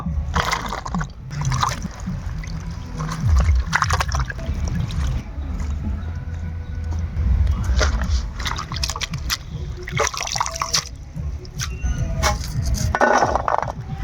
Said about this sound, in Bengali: ধনে পাতা পেঁয়াজ পাতা আর কাঁচা লঙ্কা একসাথে ধুয়ে নিব